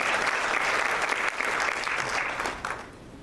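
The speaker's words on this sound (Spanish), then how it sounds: "Denle un fuerte aplauso a Cristo." Church congregation breaking into loud, dense applause, a steady wash of many clapping hands that holds for a few seconds and then tapers slightly toward the end.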